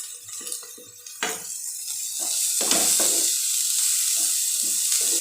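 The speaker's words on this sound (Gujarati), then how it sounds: "અહીંયા હવે આપણે ગાજર પણ ઉમેરી દઈશું।" Carrots sizzle loudly as they are stir-fried with onion and capsicum for street-style hakka noodles, a steady frying hiss broken by scraping and clanks of a spatula against the pan, with no talk.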